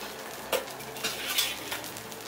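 Dosa batter poured onto a hot pan, with a soft steady sizzle and a few louder scraping, clinking bursts of spreading near the mic, no voices.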